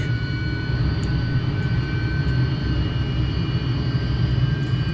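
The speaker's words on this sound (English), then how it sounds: "The engines do get quite loud in this aircraft." Twin jet engines of a Dassault MD 450 Ouragan in Microsoft Flight Simulator give a steady, loud, even roar with a deep rumble beneath, unbroken and alone throughout.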